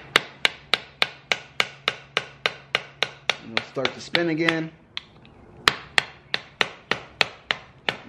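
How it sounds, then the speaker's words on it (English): A small hammer strikes a flathead screwdriver wedged against a brake rotor on an MK7 Golf R, sharp metallic taps in a steady, even rhythm, close and loud, pausing briefly while someone speaks before the tapping resumes. "So I've been taking this flathead in here with a little hammer."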